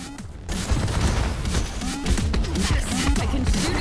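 Rapid bursts of gunfire crackle without pause in the Jumanji video game, loud and dense over a rumbling game soundtrack.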